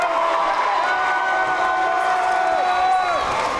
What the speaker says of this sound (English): from the sound of the crowd, you'd think that that was a shutout for Kennedy